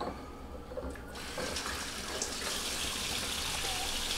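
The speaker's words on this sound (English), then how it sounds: "We gotta wash our hands." Tap water running steadily from a faucet for hand washing in a kitchen before making macaroni, a continuous broadband rush that grows fuller after the first second and holds at moderate level without speech.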